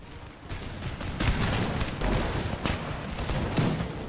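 Musket volley fire in the strategy game Empire Total War, a dense crackling fusillade of many shots with dull booms, sustained and fairly distant across the battlefield, no talk.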